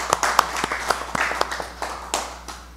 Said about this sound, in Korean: 환영의 박수로 맞아 주시기 바랍니다